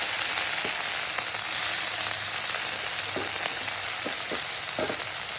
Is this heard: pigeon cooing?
no